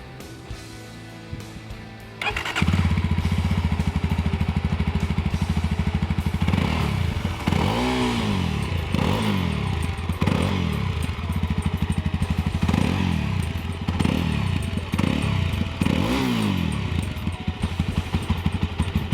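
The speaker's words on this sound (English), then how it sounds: "Just switching on this bike to get you the exhaust note of this bike" A Mahindra Mojo single-cylinder motorcycle starts after a few seconds of quiet, then idles loudly and close with a steady thumping exhaust note, broken by several short blips of the throttle.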